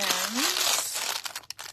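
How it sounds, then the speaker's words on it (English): Close, busy crinkling and rustling of plastic packaging around gold craft hoops, with a short rising squeak at the start and a few sharp crackles as it trails off. "sorry for all the crinkling of plastic"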